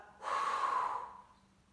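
A single audible breath in yoga practice during eagle pose: a soft, airy exhale swelling after a short silence, holding steady for most of a second, then fading out, close and alone with no talk.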